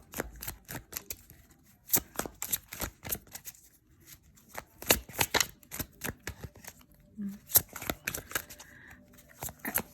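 Tarot cards are shuffled by hand in a steady run of crisp riffling and slapping bursts, close and fairly loud, with no talking over it.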